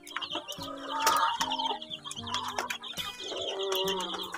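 A flock of young broiler chicks chirps and peeps without pause, overlapping bright calls close by, with occasional lower clucks and a brief deeper call mixed in, no voices.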